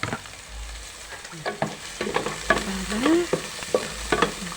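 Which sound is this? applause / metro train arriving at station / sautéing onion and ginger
sautéing onion and ginger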